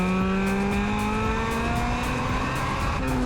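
A Honda Civic Type R EK9 revs its VTEC engine high, with a loud, close, rising engine whine and strong harmonics. The rough, hard-edged tone builds steadily over a few seconds.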